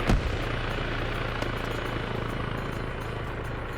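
A Mi-8 helicopter flies in a multiplayer military video game, its rotor throbbing as a steady dense roar across the whole stretch, with a sharp bang at the start and occasional faint distant thumps.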